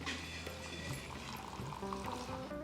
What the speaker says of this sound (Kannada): ಈಗ 150 ml ಬಿಸಿ ನೀರು ಹಾಕೋಣ